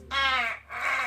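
A human voice imitates a crow's caw, giving one drawn-out harsh call and then a second shorter one after a brief gap, loud and close with no other sound around it.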